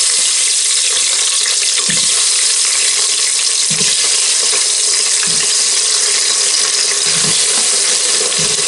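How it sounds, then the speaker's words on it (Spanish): Thick-cut potato pieces fry in hot oil in a pot for stovetop roast chicken, a steady dense sizzle close up with a few soft low thumps and stirring knocks throughout. "Mientras el aceite ya está caliente, echamos la patata."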